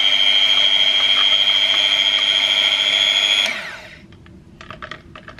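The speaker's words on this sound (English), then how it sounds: "I'm going to get the mixer and mix it all in" An electric mixer whirs loudly and steadily, then switches off and winds down, leaving quiet taps and clatter near the end.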